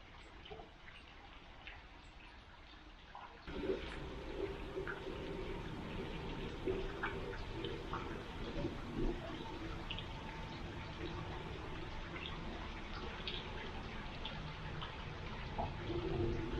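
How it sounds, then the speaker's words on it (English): Water from a small waterfall spills over rocks into a pond along a wooded trail near old quarry ruins, a steady broadband rush that grows fuller after a few seconds and keeps flowing without a break. "The sound of the water coming down through the rocks, hitting that"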